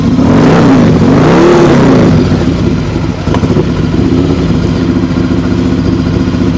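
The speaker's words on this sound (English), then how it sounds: "It's an incredibly powerful engine." A custom Buell S1 Lightning motorcycle engine revs hard, then settles into a loud, rough idle close by.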